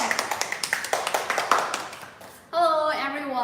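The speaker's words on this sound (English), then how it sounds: "let's give a round of applause to welcome Miss Autumn" A small group clapping in a quick, even rhythm of distinct nearby claps that fade out after about two seconds, followed by a voice speaking.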